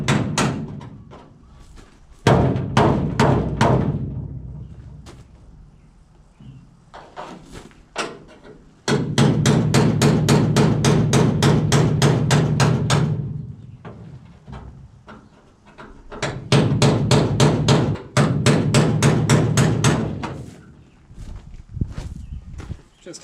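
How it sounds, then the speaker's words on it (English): Rapid metallic hammer blows on a chisel drive a glued-on panel off a 1983 GMC K1500 truck body, coming in several loud, fast bursts separated by short pauses and scattered lighter taps. "I'm just going to chisel this out by hand for the rest on the top there"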